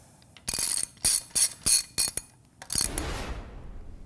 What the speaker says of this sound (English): you can then begin tightening the jacking screws, which pushes the rotating assembly out away from